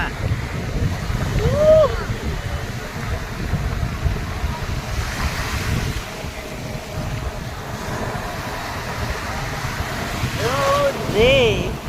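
Rough, churning sea surf at Cox's Bazar beach, a loud continuous wash of waves with wind buffeting the microphone and faint voices calling out at times.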